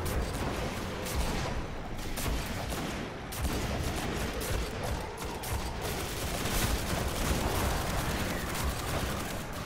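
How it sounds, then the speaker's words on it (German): Sustained, dense gunfire from the Xbox One game Destiny during a fight against Oryx: continuous rapid shots and bursts layered over each other at a steady loud level. "Schieß weiter, was ihr nur könnt."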